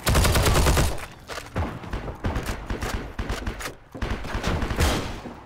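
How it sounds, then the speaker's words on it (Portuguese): Rapid gunfire bursts from the World War II shooter game Heroes & Generals, with the STG-44 German assault rifle in play: loud, dense volleys with brief pauses between strings of shots. "Deu dois tiros no cara agora e o cara não morre."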